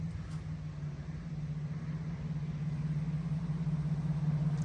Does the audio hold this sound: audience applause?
no